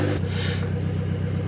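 A Mitsubishi Pajero Mini, a right-hand-drive mini off-roader, revs in neutral with a steady, close mid-range engine drone that holds loud and even for a moment.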